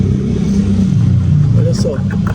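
Worn water pump on a Chevrolet Meriva with loose rotor play, the engine running loud with a steady low drone and belt noise, while someone talks over it close by.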